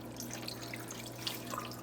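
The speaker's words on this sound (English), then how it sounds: "I'm gonna add some water," Water runs into a pressure cooker that already holds meat, a quiet trickling pour with light drips and splashes over a low steady hum. Nobody speaks.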